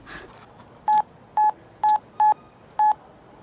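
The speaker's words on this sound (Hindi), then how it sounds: "उसे एक बार फोन लगाओ तो।" Phone keypad dialing a number, five clear electronic touch-tone beeps in quick succession, loud and close against a quiet room.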